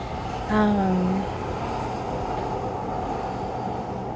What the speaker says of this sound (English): The train just passed.